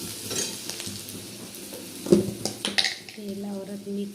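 Onion fried in oil sizzles in a pan as turmeric and salt go in, with spoon stirring and clinks of a pot; a voice speaks briefly near the end.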